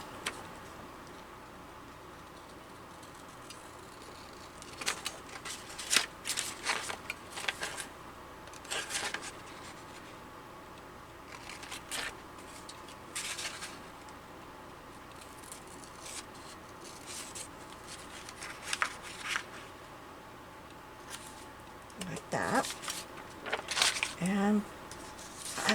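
Scissors snip around a Temu sticker for a junk journal, giving scattered close crisp cuts and paper rustles in bursts, with soft talk in between.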